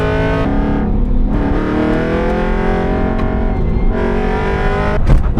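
Track-built Aston Martin Vantage V8 at speed on the Nürburgring, engine roaring loud and close as revs rise and fall through several gear changes, with brief lifts and a sharp burst near the end; no talk.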